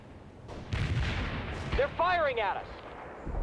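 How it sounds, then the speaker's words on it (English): Gunfire and artillery blasts in the strategy game World in Conflict, a few dull thuds and rumbles at moderate level while someone talks over them. "firing at us!"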